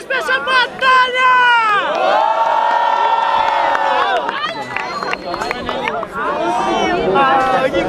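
A crowd at a Brazilian rap battle erupts in loud cheering, whoops and shouting, sustained and close, with a host's amplified voice calling out over the noise.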